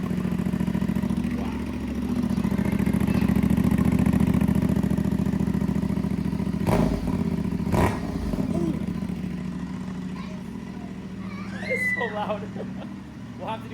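A 2024 CFMoto 450SS motorcycle fitted with an aftermarket exhaust idles close by with a steady, low, throbbing rumble, while people talk over it and a couple of sharp knocks sound midway.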